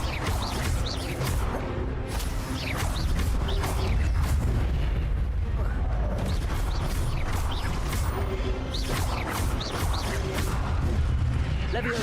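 Spell combat in Hogwarts Legacy, including an Incendio fire spell: repeated booming blasts and bursts of magic over a dense rumbling game soundscape, with a voice calling out spells throughout.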